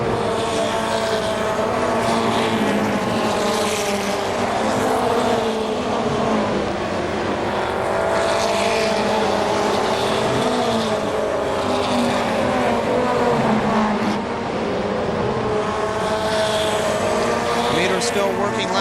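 Race trucks roar around the KilKare Speedway oval in a continuous loud engine drone, pitches rising and falling as they pass, under a race announcer's ongoing commentary.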